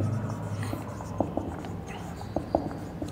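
Chalk or marker writing on a board during a lecture, giving quiet scratchy strokes and a few taps in short bursts over a low background of room noise.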